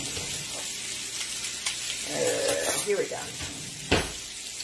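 Halibut sizzling in a pan and basted with butter, a bright steady sizzle that swells as butter is spooned over, with clinks of utensils against the pan and a brief spoken word near the start.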